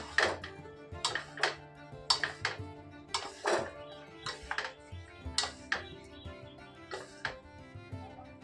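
Egg noodles being stirred in a pan, with repeated clinking scrapes of a utensil against the metal in an uneven rhythm, close and moderately loud, and no voices over them.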